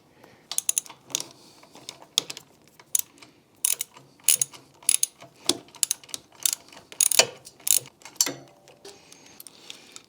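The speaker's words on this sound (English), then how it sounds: "I can get at this one back here with the swivel from the clutch side." Ratchet with a swivel extension working the header bolts on a Honda CBR 800, quick clusters of sharp clicking strokes in uneven bursts with short pauses between them, close and fairly loud, no talk.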